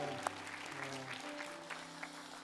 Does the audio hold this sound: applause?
yes